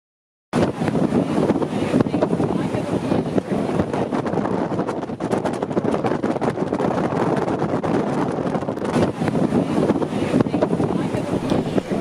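Strong wind buffets the microphone continuously, a loud rushing roar over what sounds like a boat moving across a lake in partly cloudy, windy weather.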